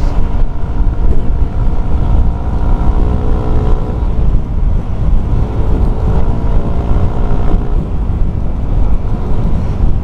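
Yamaha NMAX scooter with a bored-up engine running steadily under wind rush while riding, a continuous low droning roar without distinct rev peaks, close and loud throughout.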